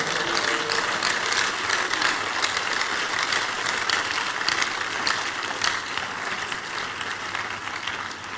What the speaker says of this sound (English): Give the Lord the biggest clap offering.